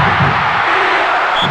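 A short burst of stadium crowd noise from the soccer video game Winning Eleven 2002, with fans cheering and roaring loudly and steadily for about a second and a half.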